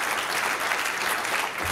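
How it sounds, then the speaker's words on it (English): Crowd applause for volunteers at the SYRCL State of the Yuba 2019 awards gathering, continuous dense clapping at a steady level with no talking over it. "giving out a huge round of applause for the thousands of volunteers that have helped"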